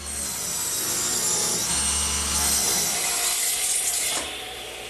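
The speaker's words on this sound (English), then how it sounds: "they're just some strips 1 5/8 inches wide cut out of a 2x4" Strips 1 5/8 inches wide being sawn from a 2x4, a loud, steady rasping cut running continuously for several seconds before easing off near the end.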